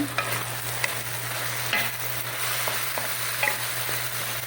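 Mung beans frying in a pan while being stirred, Bisaya-style home cooking: steady close sizzle under a constant low hum, with scattered scrapes and clinks of the utensil against the pan.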